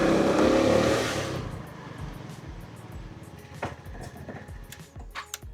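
A Rusi RFI 175 motorcycle engine, just after its throttle body was cleaned, gives a loud rev that falls away into a steady, close idle with a few sharp pops.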